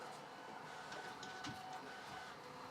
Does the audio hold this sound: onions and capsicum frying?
no